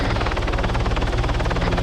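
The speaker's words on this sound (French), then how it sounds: "il y a un nouvel hélico qui arrive" A helicopter in a video game flies over, its rotor beating in a fast, steady chop with a constant engine roar, loud and close throughout.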